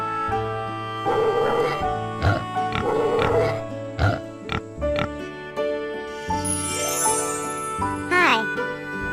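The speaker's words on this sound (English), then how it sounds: "P-I-G, pig." A pig grunts and oinks in several short, snorting bursts over a jaunty farm-themed music bed, followed by a higher squealing call near the end.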